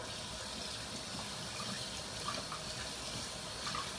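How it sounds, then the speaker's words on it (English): Bathroom tap running lukewarm water to rinse out a shaving brush, a steady, fairly quiet stream of water splashing continuously, with occasional faint clinks. "I use lukewarm water and I wash my brush out."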